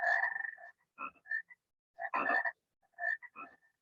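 A frog croaks in a series of short, bright calls, several bursts with brief pauses between them, close and clear against silence.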